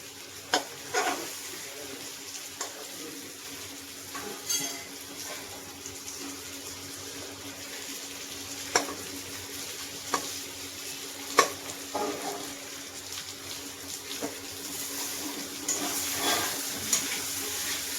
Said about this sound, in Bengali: আলুটা আমি এখানে এর মধ্যে একটু পিস করে নেব খুন্তি দিয়ে